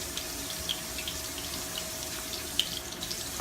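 A thin trickle of water runs steadily into a pan of meatball pasta sauce, a soft continuous splashing pour close by with a couple of faint clinks.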